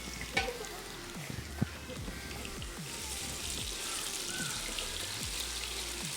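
Fish and potato finger chips fry in hot oil, a close, steady sizzle and crackle running throughout with occasional sharper pops and faint clinks.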